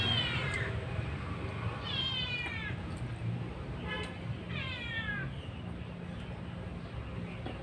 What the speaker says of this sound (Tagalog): Humingi na naman yung pusa.